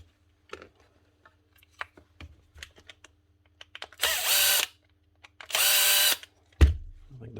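A Makita 9045N sander with worn bearings is switched on in two short, loud bursts, each running for about half a second to a second, surrounded by scattered clicks and handling knocks from the workbench.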